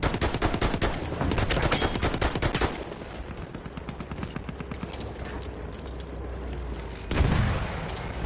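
Rapid machine gun fire in Battlefield 1, dense bursts of automatic shots in the first few seconds, then scattered gunfire and distant battlefield rumble, with a sharp loud burst near the end.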